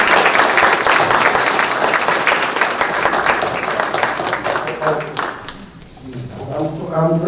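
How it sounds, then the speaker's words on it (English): Township council meeting attendees give a round of applause for a Women's History recognition, strong clapping that gradually thins and fades, giving way to voices talking near the end. "Let's have a loud round of applause."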